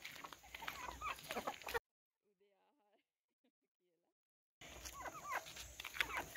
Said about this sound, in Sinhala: හරි අපි දැන් ගිහින් බලමු ලොකු කුකුලුන්ට කොහමද කෑම ටික දාන්නේ කියලා